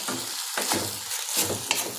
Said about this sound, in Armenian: մի քիչ տոմատի մեջ տապակվի տոմատի մածուկի